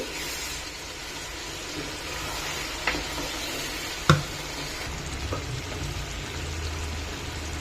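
Village-style fish curry in a pan with tamarind pulp, stirred by shaking the pan by its handles, a soft continuous simmering sizzle with a few faint clinks, no speech.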